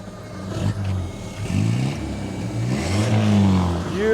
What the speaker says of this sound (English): Carlos, rev the engine, sir.